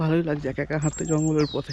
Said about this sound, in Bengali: শুধু পাখিদের ডাক শোনা যাচ্ছে